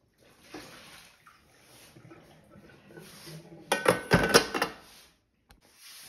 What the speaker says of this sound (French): Je vais vider l'eau de mon bol.